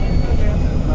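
Airplane engines roaring at an airport on a flight from Trichy to Bangalore, a loud continuous low rumble with voices talking over it.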